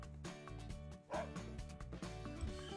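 Cartoon dogs in the video game The Dog Island bark and yip in short bursts over steady, upbeat game music.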